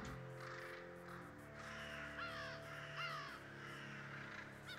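Crows caw in short rising bursts in the video game Doggone, heard over eerie background music and a steady drone, with no talking.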